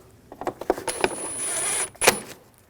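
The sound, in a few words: tightening screws during Audi S4 spark plug replacement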